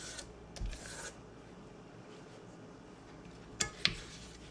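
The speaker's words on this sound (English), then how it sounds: "scrape down your bowl, just so everything's getting mixed in." A spatula scrapes down the sides of a mixing bowl holding carrot cake cheesecake batter, producing faint soft rubbing strokes with a couple of sharper scrapes and taps near the end.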